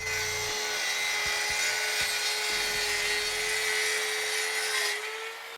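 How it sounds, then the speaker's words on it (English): A track saw makes a 15-degree bevel cut through wood, a loud continuous motor whine and cutting roar that holds steady for several seconds before spinning down. "So with our track now locked and loaded, let's go ahead and make that 15 degrees cut."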